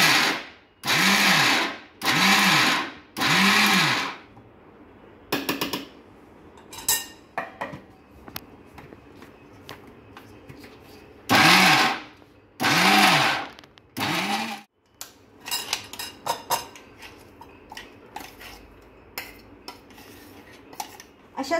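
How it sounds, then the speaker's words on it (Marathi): A mixer grinder runs in short pulsed bursts, coarsely grinding soaked dal with raw mango and green chillies, loud and close, followed by jar rattling, clinks and handling noises between runs. "अशाच पद्धतीने आपण ही सगळी उरलेली डाळ सुद्धा वाटून घेऊया."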